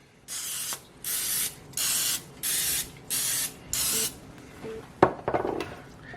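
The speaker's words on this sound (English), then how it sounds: "I'm still going to give it a little spray, just for insurance" Six short bursts of aerosol cooking spray onto a non-stick pan in a steady rhythm, close and hissing, followed by a couple of light metallic clatters.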